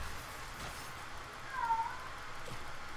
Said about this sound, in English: I once again apologize for my cat.